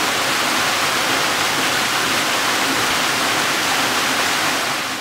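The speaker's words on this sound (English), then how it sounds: "It's more of a staircase type waterfall, with water cascades over lots and lots of little drop-offs" A staircase-type waterfall at Salisbury Falls spills over many small drop-offs, making a loud, steady, unbroken rushing roar close by.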